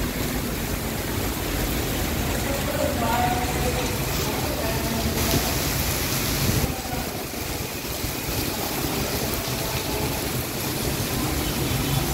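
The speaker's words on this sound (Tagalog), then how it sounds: "Maulan, malakas." Heavy, sudden rain in Tayo Karuhatan, a loud, dense, steady hiss that continues without a break, with a voice heard briefly at one point.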